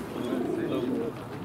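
Pigeon cooing at a bird market in Pyatigorsk, a low throaty coo close by, heard under people talking.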